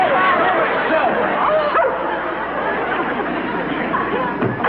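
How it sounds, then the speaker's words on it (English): A dog barks and yips in short bursts, close and fairly loud, mixed with whimpers while people talk excitedly over it. "A dog!"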